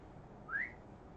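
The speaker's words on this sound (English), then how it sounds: "This cat comes when I whistle." A person gives one short rising whistle to call a cat, a single faint chirp-like note indoors against quiet background hum.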